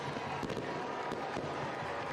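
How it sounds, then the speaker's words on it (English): Fireworks bursting over a football stadium after a home win, a few scattered sharp pops and crackles fairly far off over a steady crowd-like wash of background noise. "as the fireworks go off in the upstate"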